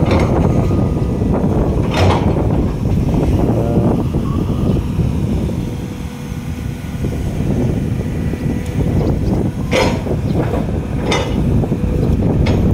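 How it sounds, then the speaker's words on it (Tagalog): Strong wind buffets the microphone in a steady, loud roar with gusting swells and a few sharp bursts, no voices. "Lakas ang hangin."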